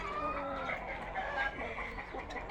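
Chickens cluck steadily on a poultry farm raising young tiger hens being grown as parent birds, with overlapping calls and a brief crow-like note, all close by and continuous with no talk.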